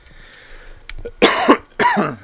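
Two harsh, loud coughs ring out close up after a quiet moment, the second following shortly after the first.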